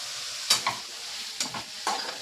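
Onions frying in a pan with steady sizzle, broken by a few sharp scrapes or stirs of a utensil, close and moderately loud with no voices.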